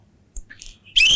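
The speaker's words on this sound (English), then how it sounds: "If you feel it is right, then blow the whistle." A whistle blown in a quiz game during a Telugu film interview: a single bright, loud shrill blast that cuts in near the end after a few faint chirps.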